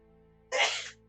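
A single sharp sneeze bursts out over a quiet background, brief and fairly loud.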